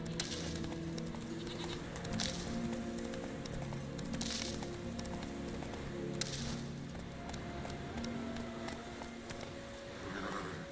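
Horse hooves beat steadily in the fantasy video game The Witcher 3, a continuous rhythmic clatter under a dense bed of ambient noise, with occasional animal bleats and snorts.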